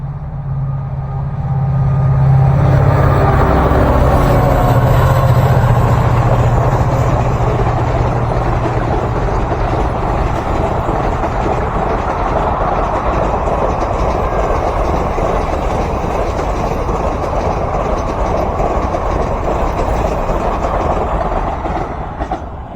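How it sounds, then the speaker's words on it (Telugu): An express train rushes past on railway tracks, swelling from a distant rumble into a loud, sustained roar of wheels and carriages that holds steady for about twenty seconds before easing slightly. "వచ్చేసింది దగ్గరికి ట్రైన్."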